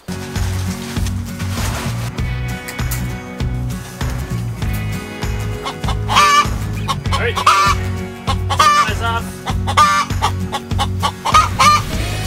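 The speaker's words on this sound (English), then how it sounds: "Look at these chickens." Hens cluck repeatedly close by, short clucks and rising calls over a steady low rhythmic hum, with a brief spoken word early on.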